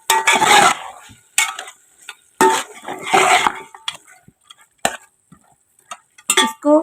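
A spoon stirs ground spices, including crushed dried coriander, into beef in a pot for beef pulao. It comes in several scraping, clattering bursts separated by short quiet gaps, with a few light clinks of metal against the pot.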